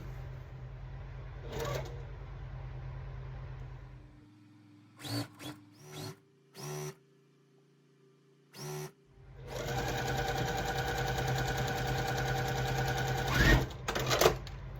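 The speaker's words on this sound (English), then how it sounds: "So I'm going to sew this on." Sewing machine stitching scrap fabric strips for a quilt, starting with a steady hum, then a few short stop-start bursts, then a long continuous close run of stitching, with no talking.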